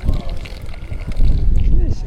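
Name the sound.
wind blowing in Morocco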